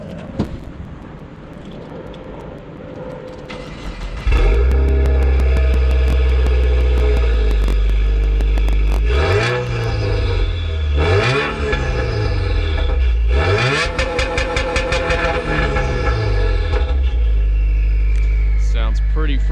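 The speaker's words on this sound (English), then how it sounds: "We'll just listen to the exhaust because it sounds pretty good" A Subaru WRX with a J-pipe exhaust is revved while parked, loud rising and falling blips after a quieter opening, with several sharp repeated revs in the middle, close by.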